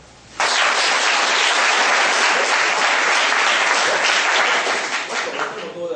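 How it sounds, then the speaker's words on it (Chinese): Students at a school lecture break into loud, sustained applause that starts abruptly and holds steady for several seconds before tapering slightly, filling the room. "愿意的话拍手"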